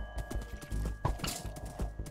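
Horse hooves clip-clop in a survival video game, a run of rhythmic, fairly close hoof beats over a busy low background of other game noise.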